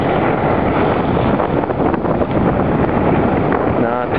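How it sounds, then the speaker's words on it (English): Loud, continuous wind rushing and buffeting the microphone aboard a sailboat under sail on the Salish Sea, a dense steady roar with faint water wash and no break through the whole stretch. "Just moving by the wind."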